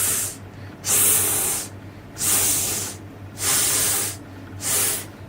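A voice imitates the letter S, making four drawn-out sibilant hisses in an even rhythm with short pauses between them, close and clear.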